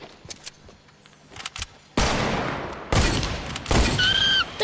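Loud gunfire in a PS4 shooter: a few faint clicks and taps, then sudden sustained bursts of rapid shots in three strong surges, close and harsh, with a brief whistling tone near the end.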